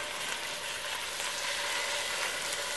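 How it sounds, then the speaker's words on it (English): Pork tenderloin sizzling in hot olive oil in a pan, a steady, close hiss of frying that holds unbroken with no talk over it. "In here it's sizzling away."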